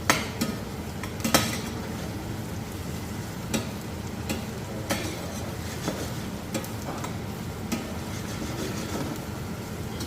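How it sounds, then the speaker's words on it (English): Onions sweating in a pot for Swiss onion soup, a soft steady sizzle with scattered clicks and stirring knocks, close and quiet. "we're gonna sweat the onions until they become a little bit, not brown, but they change a little color"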